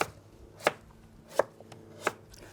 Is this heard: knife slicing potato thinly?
yes